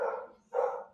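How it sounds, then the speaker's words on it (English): A household dog barks twice at a distance during a town hall call, two muffled, moderate barks about half a second apart with quiet between them. "Sorry about the dogs."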